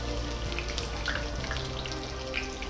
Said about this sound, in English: Lower it down and let it fry, baby, fry, just like that